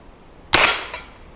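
A single sharp rifle shot from a Henry Frontier Long Barrel, fired at 25 yards on a range, with a loud crack and a short decaying tail followed by a faint echo.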